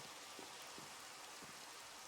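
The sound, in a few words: rain in Minecraft, from a video game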